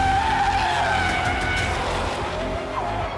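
Audi RS6 and Porsche Taycan GTS accelerating hard from a launch-control start, with about 600 hp pushing; a loud, steady roar of engine and tire noise rises throughout, close and without talk.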